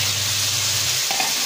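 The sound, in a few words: tomatoes sautéing in pan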